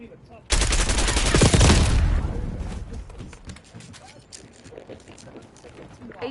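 Gunfire in the Call of Duty video game: a loud, dense burst of rapid shots lasting over a second, then a fading, cluttered tail of scattered distant reports and battle noise.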